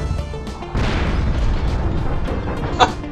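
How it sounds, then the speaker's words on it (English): A rocket explosion in a video game bursts out as a loud boom, with a rumbling blast sustained after it and a sharp crack near the end. "Rocket arrives."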